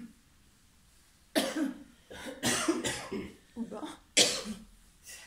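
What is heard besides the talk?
coughing fit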